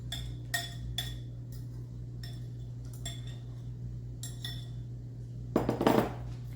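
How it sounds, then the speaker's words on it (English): Utensil clinks against a mixing bowl as wet ingredients are folded into dry ones for zucchini bread, several light separate taps over a steady low hum, then a brief louder scraping burst near the end. "you just add your wet ingredients to the dry ingredients here"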